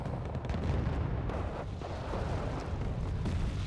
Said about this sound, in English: we got mortars hitting up the Rolands